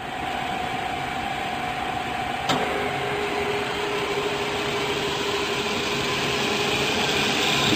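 A Hardinge HLV toolroom lathe, an 11 x 18 inch machine, running at 600 RPM with a steady mechanical whir and a clear tonal hum, a faint click midway, carrying on evenly at moderate level.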